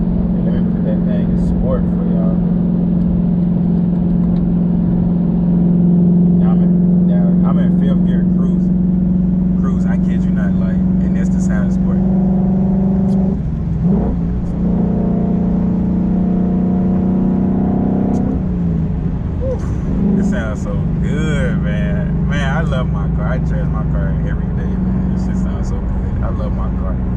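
A car fitted with a Borla Atak exhaust drones and revs in sport mode, a deep steady exhaust hum rising and swelling in pitch at times, with someone talking over it.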